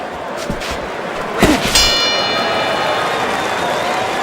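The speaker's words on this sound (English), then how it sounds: "Working our way towards the bell." A boxing ring bell clangs to end round six, a bright ringing strike with a lingering metallic decay, rising over crowd noise and faint voices.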